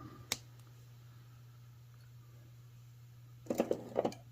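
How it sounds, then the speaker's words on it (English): Wire cutters snip excess jewelry wire while making beaded earrings, giving a single sharp click early on and a small cluster of faint clicks and handling sounds near the end over a low hum. "Take my cutters, cut off my extra wire."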